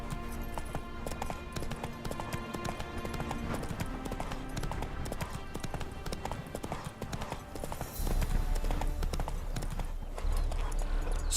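Horse hooves clip-clop steadily in The Witcher 3, a rhythmic, evenly paced trotting beat over a constant background, growing slightly heavier and louder near the end.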